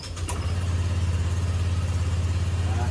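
A Honda Click 125 scooter engine idles close by, giving a steady low, rhythmic putter at an even pace after a brief rise at the start.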